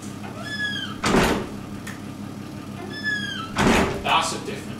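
A door opens and closes twice in a quarry tea room, each time with a sharp thunk and a brief squeak, set against a faint background hum.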